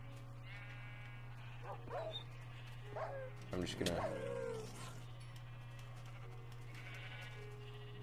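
Several short sheep bleats from the video game Minecraft sound over a steady electronic hum, a few in succession, while a person talks quietly.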